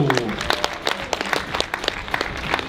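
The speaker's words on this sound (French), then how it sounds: "Vos applaudissements pour Yukiya Arashiro" A crowd applauds a cyclist being introduced at the Paris–Roubaix race presentation, with loose, separate claps standing out in an open space while an announcer's voice carries on over them.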